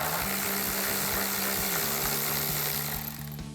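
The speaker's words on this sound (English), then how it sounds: "we can remove this 10mm bolt at the center of our grille. So we'll grab a 10mm socket to take that out" A 10mm socket on a ratchet backs out the centre grille bolt of a Toyota 4Runner, giving steady repeated mechanical clicks and a low whirring hum that run close and loud throughout, tapering off at the end.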